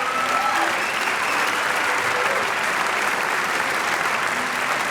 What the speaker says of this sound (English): Now, an applause for all 4 of them.